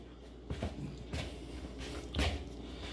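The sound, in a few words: kneading bread dough by hand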